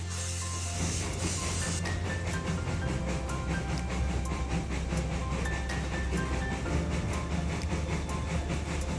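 Puffing Billy steam train in Australia rolling along, heard from the carriage just behind the engine: a continuous loud rumble with rhythmic clickety-clack of wheels and a hissing wash of steam throughout.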